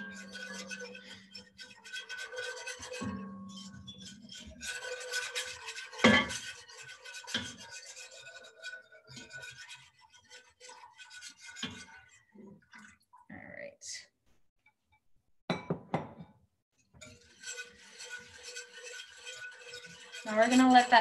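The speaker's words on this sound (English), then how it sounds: "So I'm sort of whisking this as I add it in." Skimmed milk being whisked into a dish: soft, scraping, rubbing strokes up close that come and go in uneven bursts, with gaps between them.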